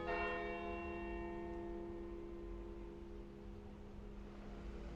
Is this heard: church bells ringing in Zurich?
yes